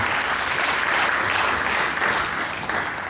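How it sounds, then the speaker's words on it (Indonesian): Church congregation applauding during a worship service, a sustained, fairly loud wash of clapping that tapers slightly toward the end. "tepuk tangan buat Tuhan Yesus"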